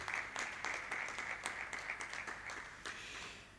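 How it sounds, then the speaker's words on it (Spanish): Applause for the architects of a studio at an architecture networking event in a Porcelanosa showroom in Huelva, a modest crowd clapping steadily with a few sharper claps standing out, fairly faint and slightly distant. "Vamos a darles un fuerte aplauso y gracias por venir también."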